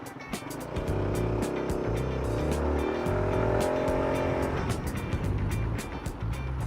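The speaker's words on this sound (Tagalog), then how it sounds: "Test naman natin ngayon yung brakes mga brad. Rear brakes." A KYMCO KRV 180 scooter-style motorcycle with ABS braking hard on the road, its engine note and road noise swelling and then easing as it slows, close to the rider, with a brief squealing, shifting tone during the stop.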